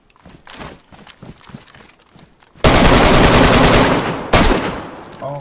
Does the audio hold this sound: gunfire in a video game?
yes